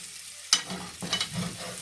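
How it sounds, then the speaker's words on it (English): Garlic and potatoes crackle and sizzle softly in a hot pan, with a couple of sharp scraping clinks from a utensil stirring them. "this delicious garlic aroma that's sizzling and cooking in here with the potatoes"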